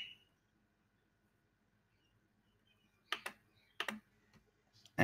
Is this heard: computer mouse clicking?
yes